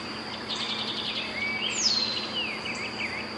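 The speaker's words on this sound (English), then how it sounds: "Hear the birds singing." Birds sing at daybreak with a few thin whistled notes and chirps, fairly faint and distant over a steady hum and insect buzz.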